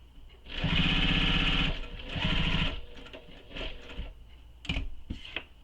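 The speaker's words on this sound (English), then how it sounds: "Starting underneath the accent, you're going to stitch there, so I'm back stitching." A sewing machine back stitches on a Danbury tote bag, two loud bursts of rapid needle chatter followed by shorter, quieter stitching runs and a few clicks, no talking.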